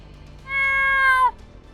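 A cat gives a single clear, drawn-out meow lasting under a second, close and fairly loud, with quiet background before and after.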